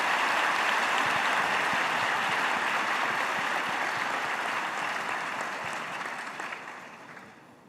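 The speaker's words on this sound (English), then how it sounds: "A big round of applause to all these enthusiastic participants" Sustained applause from an audience at a quiz event during a centenary celebration, a dense wash of many hands clapping loudly for several seconds before slowly tapering off.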